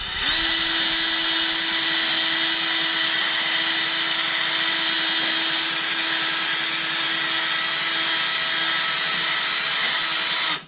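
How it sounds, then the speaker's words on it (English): Power drill spinning a P500 gold sanding disc against a headlight lens, a steady loud whine with gritty abrasive hiss running continuously before stopping abruptly at the end. "we use the P500 gold sanding disc, which is a 500 grit first. We simply stick that to the Velcro and go to town."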